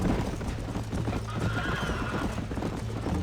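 Rhythmic hoofbeats of a galloping horse in Red Dead Redemption, loud and continuous, with a drawn-out whinny rising over the clatter midway.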